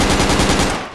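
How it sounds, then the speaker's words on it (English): Rapid automatic gunfire from the military shooter Project Reality, a loud continuous burst of closely spaced shots that fades slightly near the end, with no talk. "I shot him."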